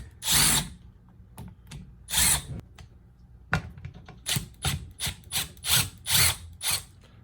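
A cordless power drill backs screws out of the housing of a Ridgid Octane reciprocating saw during a teardown, with short repeated bursts of whirring and ratcheting, close and loud, separated by brief pauses and small clicks.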